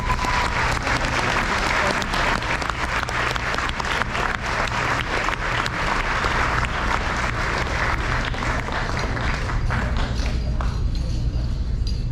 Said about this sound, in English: Let's give a round of applause for these amazing students.